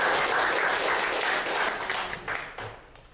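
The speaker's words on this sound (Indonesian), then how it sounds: "Kita berikan aplaus." Applause from an audience at a school learning-community sharing event, steady dense clapping that holds for about three seconds, then thins and fades out toward the end.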